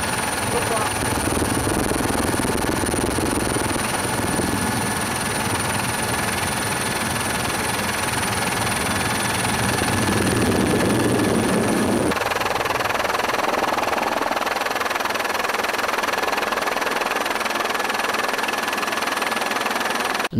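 A helicopter drones overhead at the start of the Rad am Ring bicycle race at the Nürburgring, a continuous loud rotor and engine roar throughout, with a sudden shift in tone partway through.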